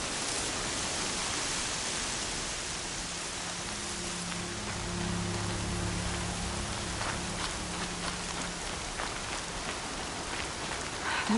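Heavy rain in a PS4 video game, a dense, steady hiss of downpour that fills the whole clip at a constant level, with a faint low hum underneath and no one speaking.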